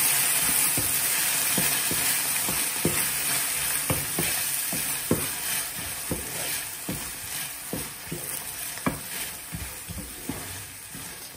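Spices and tomato puree sizzling and frying in a pan for an Indian spinach and paneer dish, a steady close hiss with repeated sharp pops and spatters scattered throughout.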